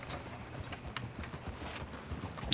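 Horse hooves clip-clop at a walking pace in Red Dead Redemption 2, an even string of light knocks over low game ambience, with no talk.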